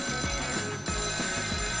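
An old-fashioned telephone in a living room rings with a loud, steady metallic bell, its repeated ring bursts continuing without pause.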